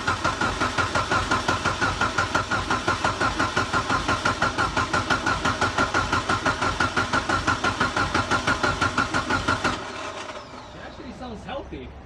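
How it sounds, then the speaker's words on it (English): A Mitsubishi Lancer Evolution VIII engine cranks and catches on its first start after a rebuild, running with a rapid, even chugging pulse before it cuts out near the end, leaving quieter noise. "we should be able to get the car running"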